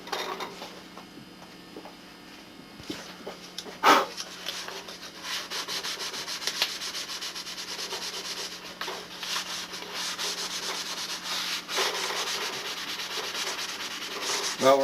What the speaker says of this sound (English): Well, we're into sanding out this coat of silver.